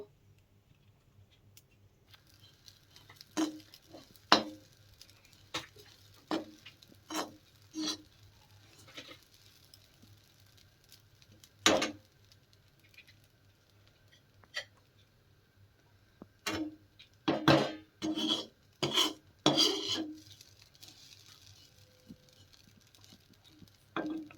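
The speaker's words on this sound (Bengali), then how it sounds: "বন্ধুরা, ভালো করে নেড়ে চেড়ে ভেজে নিচ্ছি, পুড়ে পুড়ে যাতে না যায়" Breadcrumbs are stirred and dry-fried in a kadai on a gas stove: sparse, sharp scraping taps and clicks of the utensil, scattered then clustered in quick bursts, over a low steady hum from the burner.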